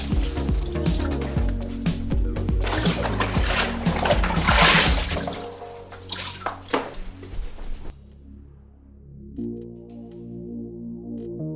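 Water splashes and sloshes in a bathtub as items are rinsed, loud and busy at first, then it thins to scattered drips and light trickling.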